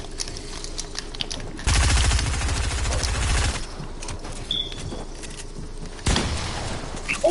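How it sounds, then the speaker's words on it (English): Gunfire in Fortnite: a sustained rapid burst of close, loud shots lasting about two seconds, then a further sharp blast near the end, over quiet game ambience. "I swear, I shot my shotgun."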